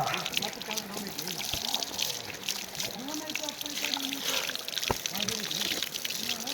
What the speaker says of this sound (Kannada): ಕಾಡಿಂದ ಹರ್ಕೊಂಡ್ಬಂದು ಇಲ್ಲಿ ಏನೋ ಪೈಪ್ ಕೊಟ್ಟು ಜಂಟ್ ಮಾಡಿರೋದು